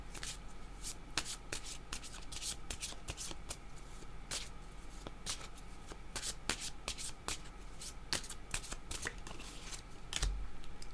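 Tarot cards are shuffled by hand in a quick, steady run of crisp riffling flutters, close and fairly quiet, with no talking.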